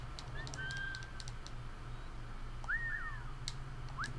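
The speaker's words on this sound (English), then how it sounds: "That he has heard the whistle." A whistle from the game Assassin's Creed 4: Black Flag, heard as a few short rising and gliding whistled notes over a steady low hum, with faint clicks scattered between them.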